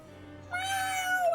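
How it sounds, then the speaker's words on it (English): A cat in the video game Triangle Strategy lets out a single, drawn-out, fairly quiet meow that rises and then trails off. "I love the kitty cats in this game."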